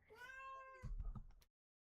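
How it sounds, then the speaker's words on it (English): A pet cat gives one drawn-out meow, rising then falling, followed by a short lower chirping sound, close and fairly quiet before silence. "Oh my god, Cheddar is meowing"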